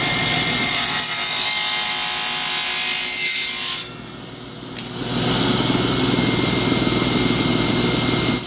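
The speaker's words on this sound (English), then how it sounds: "raise your blade just a little bit to cut it, or you can put it on a bandsaw and cut it straight up" Power saw cutting bushing material for a rear knuckle bushing on a Honda Rubicon, a steady loud grinding whine that drops briefly midway and then resumes heavier, close and without speech.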